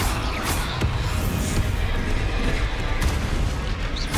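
Bombarda and Confringo spells exploding in the Hogwarts Legacy video game, a dense barrage of booming blasts and crashes with overlapping impacts under game battle noise.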